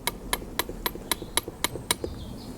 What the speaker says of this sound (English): a light little nudge from your very subtle hammer